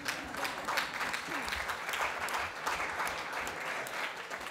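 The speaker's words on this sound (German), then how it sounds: "ich glaube, es ist ein Beifall wert, weil das schon nicht so einfach war." Congress audience applauding, a broad continuous patter of clapping from a large hall crowd, evenly sustained and moderately loud with no speech on top.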